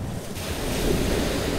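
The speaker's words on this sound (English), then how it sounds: "It's a little bit stormy and windy out at seas today, so we've got a little bit of a tide coming in, a few bigger waves coming in" Stormy, wind-driven sea waves roll onto the shore at Cala d'Or, Mallorca, as bigger waves come in. The surf roars steadily and close with a low wind rumble buffeting the microphone, and no voices are heard.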